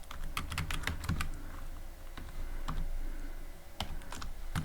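Someone types code on a computer keyboard, building a rock-paper-scissors program in Python; bursts of close, crisp key clicks come in quick clusters with short pauses between them, no talking.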